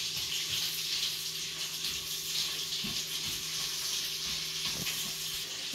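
Chopped onions frying in a pan for butter chicken, a steady hiss and sizzle holding at a moderate, close level, with a few soft taps from stirring and no talking.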